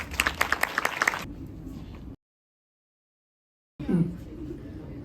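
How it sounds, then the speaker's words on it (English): Audience clapping at a Study in Korea presentation event, a short burst of applause from a crowd, then a gap of silence before more clapping and room noise resume. "Let us give them a round of applause."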